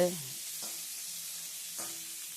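Chopped onion sizzles steadily in a hot pan while it is sautéed, with a soft hiss throughout and a couple of faint stirring scrapes near the start and end.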